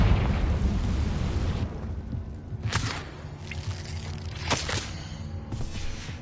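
Confringo explosion spell in a Harry Potter video game: a loud, sustained fiery roar and rumble, followed by a few sharper blast bursts and crackling debris in the game soundscape.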